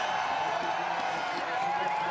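A crowd cheers at the finish of the 2018 Paris-Roubaix cycling race in a dense, continuous roar, with a commentator's voice talking over it.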